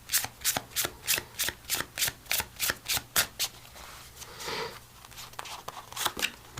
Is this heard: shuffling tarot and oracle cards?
yes